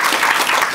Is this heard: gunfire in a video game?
no